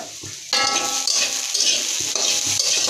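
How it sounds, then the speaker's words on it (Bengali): Mustard greens being stirred in an oiled pan, a close, loud run of scraping strokes and sizzling that starts abruptly and continues in uneven pulses. "2 মিনিট পর ঢাকাটা উঠিয়ে আবার ভালো করে নেড়ে নেব।"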